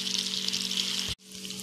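Batter poured into very hot oil in a frying pan sizzles loudly and steadily, with a brief dip in the hiss just past the one-second mark before the crackling frying resumes close by.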